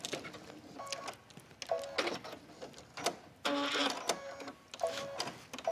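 A sewing machine stitches back and forth through waxed canvas with contrasting thread while sewing an envelope clutch purse. It runs in close, mechanical bursts of whirring stitches separated by brief pauses, with no talking.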